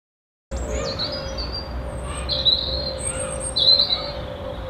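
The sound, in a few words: birds calling loudly outdoors in the evening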